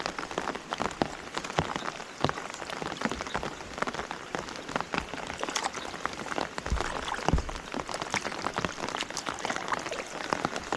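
Steady monsoon rain patters densely over a river during traditional net fishing, a constant close hiss of drops with no voices.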